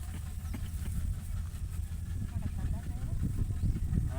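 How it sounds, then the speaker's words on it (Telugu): A train that had stopped earlier rolls slowly past behind a spot under a neem tree on a hot summer day, giving a steady low rumble with faint clatter throughout, while voices murmur in the background. "ఇంతకుముందు ఆగిన ట్రైన్ అయితే స్లోగా వస్తుంది"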